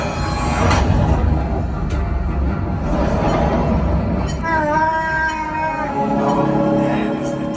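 A train roars past on the Star Wars: Rise of the Resistance ride at Disneyland, a loud continuous rumble with rising whining tones, heavy and close throughout.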